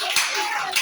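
A church congregation claps in a brief burst of dense, steady applause, close and fairly loud, with a couple of sharper claps standing out.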